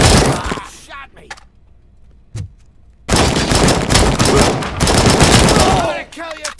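Dense bursts of gunfire in the RoboCop: Rogue City video game, rapid broadband volleys over a second or more at a time after a near-silent pause, with shouted voices mixed in.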